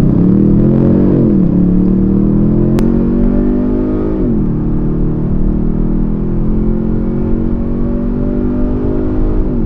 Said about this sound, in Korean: 이 안에서 이 운전자 또는 탑승자들한테 들려주는 이 강렬한 사운드 아주 매력이 있습니다